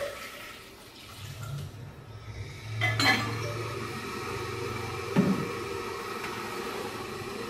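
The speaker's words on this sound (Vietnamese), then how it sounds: "chúng ta sẽ cho 1 lít nước vào nồi để nấu sôi lên" One litre of water pouring into a cooking pot on the stove, a low steady gush running several seconds with a brief metallic clink partway through, no voices.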